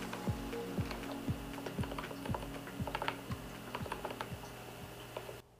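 Clacky keystrokes on a custom-built computer keyboard, a steady run of close, crisp clicks at a quick typing pace over a low background hum.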